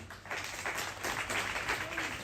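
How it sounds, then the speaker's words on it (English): A crowd at a gathering of Northern Uganda creatives claps for a speaker, with steady, fairly faint applause building after a brief pause and continuing without letup. "Can we clap for him again?"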